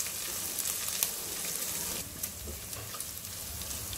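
Crushed ginger fries in a pan with a steady, close hissing sizzle and faint crackles, with a few soft stirring knocks and no voices.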